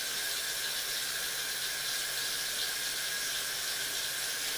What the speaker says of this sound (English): So we're going to run some water here in the downstairs bathroom.